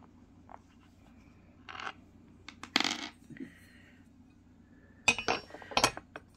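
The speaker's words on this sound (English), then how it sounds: "The nuts and washers you need are already attached to the bottom, so just unscrew all of these guys" Metal seat nuts and washers on an exercise bike are unscrewed, giving faint, scattered clinks and small metallic taps over a low background hum, with a few sharper clusters of clinking near the end.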